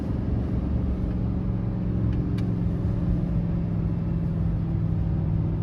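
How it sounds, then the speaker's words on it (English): A 2023 GMC Sierra 3500 pickup truck drives with its exhaust brake switched off, giving a steady, loud, low engine rumble that holds throughout with no talk. "I'm gonna turn the exhaust brake off one more time."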